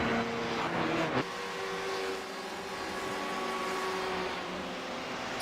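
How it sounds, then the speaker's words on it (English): Race car pulling away from the pits after a scheduled stop during the 4 Hours of Road Atlanta endurance race: a loud engine roar with a sharp shift after a second, then a sustained, steady drone. "He took over for the likes of Parnell and has the car going once again."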